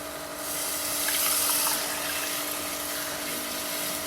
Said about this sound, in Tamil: புளிக்கரைசல் தண்ணியை ஊற்றுவோம்.